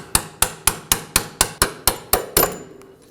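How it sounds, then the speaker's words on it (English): Hammer striking a punch to drive out a strut bolt on a 2005-2009 Subaru Legacy 2.5L H4, nine evenly spaced sharp metallic taps up close, each ringing briefly, the last blows slightly heavier before a quiet tail. "I'm going to go ahead and use a punch on the other side and try and tap that bolt out."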